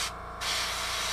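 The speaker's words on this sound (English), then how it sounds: "I like to take a spray card, and see how it's spraying." Airbrush spraying paint onto a test card for salt weathering, a loud, steady close hiss that briefly thins before resuming at full strength.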